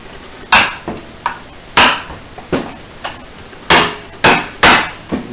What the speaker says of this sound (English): as we drive the chisel in there, it breaks the solder seal